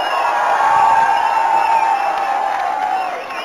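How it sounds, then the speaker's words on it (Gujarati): A large crowd cheers and whoops at a Gujarat victory celebration, a dense, sustained roar that stays loud for a few seconds before easing slightly at the end. "જોરથી તાળીઓ"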